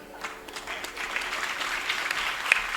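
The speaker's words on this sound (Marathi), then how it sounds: "टाळी वाजवायचा." A devotional kirtan audience applauds, a soft, distant patter of scattered clapping that builds slightly and continues steadily, fairly faint against the hall's background.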